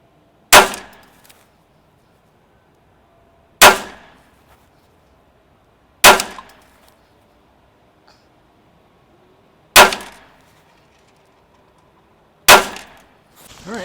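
Five loud, sharp rifle shots from a Ruger SFAR firing Hornady Black 155 grain ammunition, evenly spaced a few seconds apart, each with a short decaying echo in a quiet outdoor setting.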